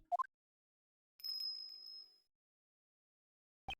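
A bell in the Ace Attorney Investigations 2 video game gives a single clear ring with a bright sustained tone that fades over about a second, set between short chiming game blips.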